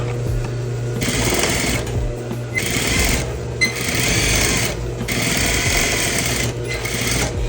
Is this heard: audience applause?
no